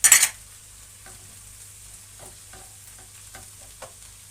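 Green lentil filling with tomato paste being stirred in a pot for a börek, opening with a brief loud scrape, then quiet intermittent spoon clinks and soft scraping over a low hum.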